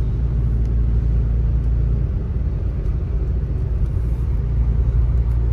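A car drives along a snowy road near Big Bear, California, with a steady, close, low engine and road rumble inside the cabin and no talking.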